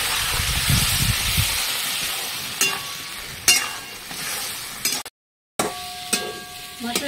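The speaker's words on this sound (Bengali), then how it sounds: "মশলাটা ভালো করে কষিয়ে নিয়েছি" Masala of cumin and ginger frying in a pan with a splash of water, giving a steady close hiss and sizzle broken by a few stirring scrapes and a short silent gap.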